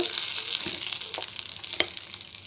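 Ingredients for a chutney sauté in a pan, with a soft, continuous sizzle and a few small crackles and stirring taps that fade slightly toward the end.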